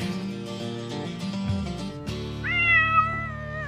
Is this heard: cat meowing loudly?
yes